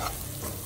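Spices including turmeric being stirred in a hot pan, a brief close sizzle with soft scraping, no voices.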